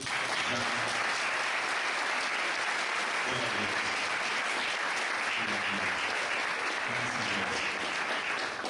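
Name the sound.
church congregation applauding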